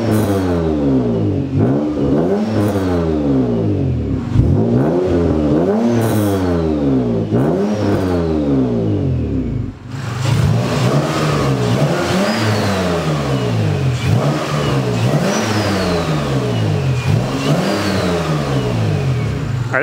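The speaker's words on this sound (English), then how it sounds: "It's no longer raspy, which is nice, and you can hear the turbo noise much more." Turbocharged V6 Honda Accord with a custom turned-out exhaust revving repeatedly, each loud rise and fall in engine pitch followed by faint turbo whistle and whoosh, steady and close with no talking.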